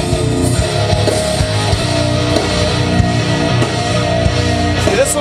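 A live band performance recording is played back, with a dense, steady wash of drums, bass and amplified instruments filling the whole clip at full volume and no talk over it.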